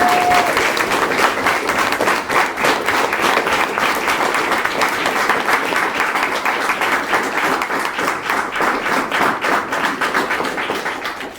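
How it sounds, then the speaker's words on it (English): A school audience gives sustained, loud applause for a family at a Year 6 leavers' awards presentation, with dense clapping that stays even and unbroken throughout and tapers slightly at the end. "Everybody, a round of applause for the Holloways!"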